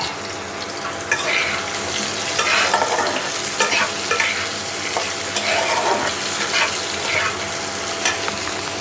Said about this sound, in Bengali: একই সাথে আমি আলু আর উচ্ছে ভাজা দিয়ে দিলাম।